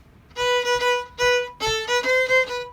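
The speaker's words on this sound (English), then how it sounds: "Now I could play that with what we would call a saw stroke." A bowed fiddle plays a lively, swinging melody with short back-and-forth saw strokes, bright and close, in several phrases with brief gaps.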